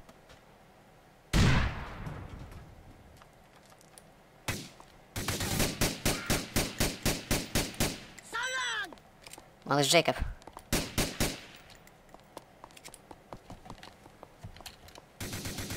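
Bursts of automatic gunfire and single shots in GTA IV, coming in rapid rhythmic volleys with sharp echoing cracks between quieter pauses, while someone talks briefly.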